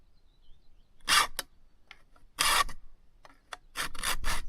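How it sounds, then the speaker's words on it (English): A file is drawn across the bent teeth of a brushcutter blade, making several short, close, rasping strokes separated by brief pauses. "now the teeth are bent out. Then we can start actually sharpening."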